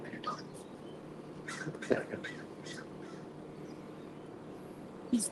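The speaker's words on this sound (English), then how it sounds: "You hear the birds?" Scattered bird calls, including a few harsh caw-like cries, sound faintly over quiet outdoor background noise.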